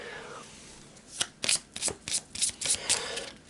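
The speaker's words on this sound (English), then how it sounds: "Quick crappy shuffle." A deck of scavenge cards from a tabletop board game is shuffled quickly by hand, a burst of crisp riffling clicks close up in a quiet room.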